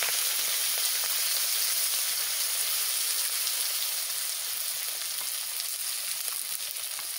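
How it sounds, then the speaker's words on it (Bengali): Cabbage and chopped greens fry in hot white oil, a dense, steady hiss of sizzling that stays loud and close without a break, with no talk over it. "আমি এইবারটা কপি আর ওই লাফা দিয়ে দিচ্ছি।"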